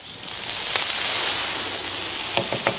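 Ginger, garlic, purple ginger and red chilies stir-fry in hot oil as beer is poured in for a chicken-feet dish. A steady, loud sizzling hiss builds and holds, and a few sharp scraping clicks of stirring come near the end.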